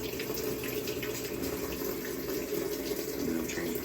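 A Maytag Bravos washer filling with hot water during its self-diagnostic test mode: a steady, close rush of water pouring into the drum, running evenly and alone for the whole stretch.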